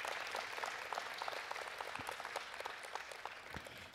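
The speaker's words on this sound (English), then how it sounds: "Let's give Jesus another big hand clap." A church congregation claps during a prayer teaching session, a steady, fairly soft patter of many hands with a few sharper claps standing out.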